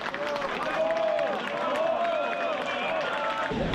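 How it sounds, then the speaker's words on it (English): A crowd applauds and claps steadily at an airport passport control hall for the arriving French national rugby team, a continuous dense patter with babble and a tonal chime-like hum running through it. "Hear all the clapping"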